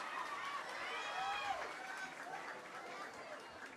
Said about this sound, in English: Both crowds really into it. I gotta say, I even hear them through the soundproof glass.